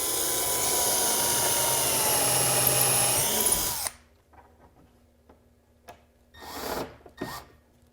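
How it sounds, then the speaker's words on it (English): A power drill pre-drills a screw hole, whirring loudly and steadily for several seconds before stopping abruptly, followed by a few faint clicks and handling sounds. "So starting with a pre-drill."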